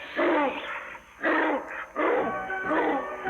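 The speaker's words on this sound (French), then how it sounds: "un énorme chien sauvage attaqua mon petit Jacques." A large wild dog in a cartoon barks and growls in four loud, close bursts with short gaps between them.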